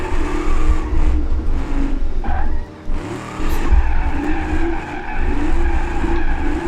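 Car in BeamNG.Drive drifting, with a continuous loud tire squeal and skidding over steady engine roar, briefly dipping once before the squeal resumes.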